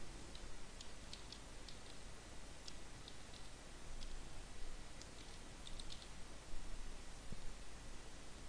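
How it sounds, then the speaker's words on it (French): Soft, scattered clicks of typing on a computer keyboard while entering text in GIMP, faint and irregular over a steady hiss of background noise. "Je vais commencer à taper directement"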